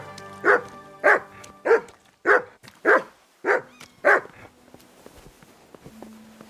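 Mutt, the dog in Kingdom Come: Deliverance II, barks seven times in a steady, evenly spaced series, loud and close, then falls quiet with faint background ambience.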